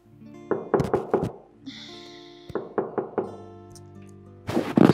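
Knuckles knock on a door in two clusters of sharp, loud raps, three or four quick knocks each, with a short pause and a final burst of knocking at the end.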